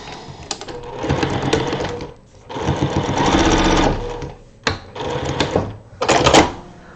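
A sewing machine stitches a partial seam with a back stitch at each end, running in several fast mechanical bursts of rapid rhythmic clatter that stop and restart with brief pauses between them.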